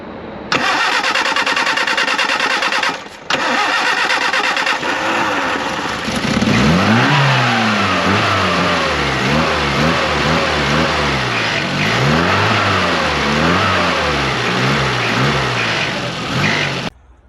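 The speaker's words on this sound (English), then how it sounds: "Now let's start her up and hear a rev." A 1963 Mini with a 1275cc engine cranks briefly, catches and settles, then revs up and down in a series of loud, close blips over a steady idle, with no one talking.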